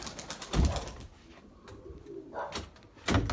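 Tumbler pigeons coo near their coop in a few soft, close bursts, separated by quieter stretches.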